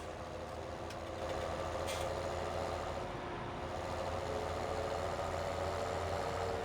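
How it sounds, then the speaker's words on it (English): A deep, steady Fendt tractor engine in a video game, Farming Simulator 17, hums at moderate volume, with a slight rise in intensity partway through and a faint whine above it. "Such a great tractor, and they sound absolutely magnificent."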